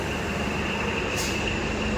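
A train pulling away from a railway station on the Hoshiarpur to Ferozepur route gives a steady, loud rumble of rolling wheels with a faint high squeal, continuous throughout.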